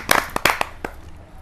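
A few sharp hand claps from an audience greeting a poet at a Hindi kavi sammelan, sparse and uneven, quickly tapering off rather than building into sustained applause.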